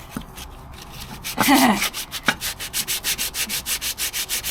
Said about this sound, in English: I'm trying not to sand any bits inside the actual waterways.